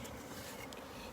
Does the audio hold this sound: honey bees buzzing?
yes